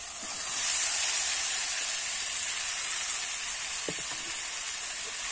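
Fried cauliflower and potato hiss in a spice masala for a cauliflower and tangra fish curry, a steady, fairly quiet steamy sizzle with a couple of faint clicks and no voices.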